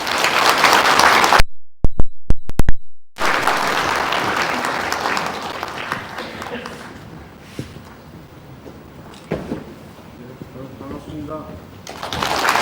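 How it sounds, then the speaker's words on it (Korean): An audience at a staff education session breaks into applause to welcome a think-tank director to the stage, with a brief silent gap early on, then clapping and crowd noise that gradually taper off. "큰 박수로 환영해 주십시오."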